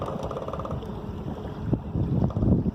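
A motorized canoe cruises along a river on a single drive unit, giving a steady low engine drone with water wash and wind rumble, continuous and fairly close throughout.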